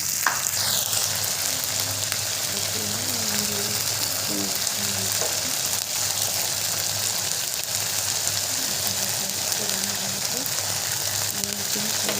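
Garam masala and chilli sizzle in oil for a paneer curry, a steady bright frying hiss close by, with occasional clinks and scrapes of stirring.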